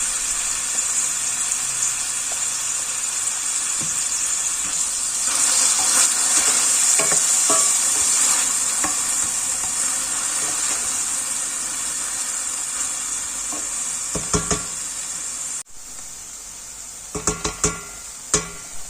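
Tomatoes sautéing in a pan for a black-eyed pea stew, a steady close sizzle and hiss with scraping stirs and a few utensil knocks toward the end, no talking.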